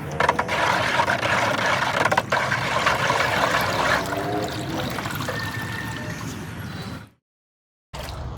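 Hydroponic nutrient solution is poured and stirred into water, a close, steady liquid swirl and trickle lasting several seconds before stopping abruptly, then resuming briefly.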